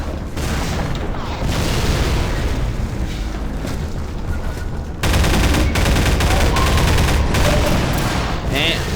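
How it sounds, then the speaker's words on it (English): Heavy weapons fire in a video game, pulse shots and powerful guns unloading in a dense, continuous barrage of booms and rapid shots, loud throughout and swelling sharply halfway through. "I'm just firing through all my most powerful stuff"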